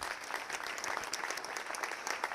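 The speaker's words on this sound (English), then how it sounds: "please join me in applauding the next generation of automotive technology professionals" A crowd applauds at a technical school's national signing day for automotive technology students, a steady wash of many clapping hands that is fairly distant and even throughout, with no talking.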